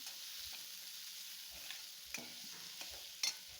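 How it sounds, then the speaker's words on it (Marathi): Chopped onion sizzling gently in oil in a pan as a dish of cabbage sabzi is cooked, with a steady soft hiss broken by a few light stirring scrapes and clinks; faint overall, no voices. "थोडासा कांदा घालून घेत आहे यालाही आपण तेलामध्ये व्यवस्थित असं भाजून घ्यायचं आहे"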